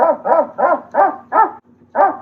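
Toy electronic keyboard playing its dog sound setting: five quick evenly spaced synthetic barks, a short pause, then one more, loud and close with nothing else around them.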